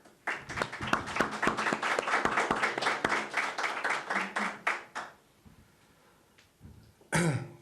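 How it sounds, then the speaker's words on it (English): Scattered hand claps from a small press-conference audience for the Kaizer Chiefs coach at the end-of-season briefing, fairly sparse and close, lasting about five seconds before a quiet pause and a brief noisy burst. "our coach also deserves a very big round of applause"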